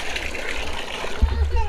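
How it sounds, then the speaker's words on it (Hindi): Water sloshes and splashes as it is drawn from a drum for washing dishes, a continuous wet gurgle close by with a voice and talk mixed in, ending in a few louder splashes. "अब पानी निकाल रही है दीदी"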